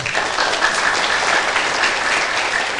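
Steady applause from a crowd, a dense wash of clapping that holds at an even level throughout with no talking.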